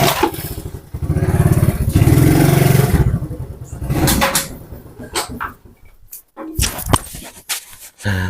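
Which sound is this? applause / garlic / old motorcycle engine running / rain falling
old motorcycle engine running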